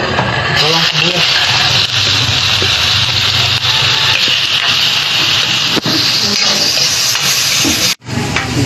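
Eggplant omelette (tortang talong) with onion sizzling steadily in a hot pan, a loud continuous hiss and crackle lasting several seconds, with voices talking over it and a sudden break near the end.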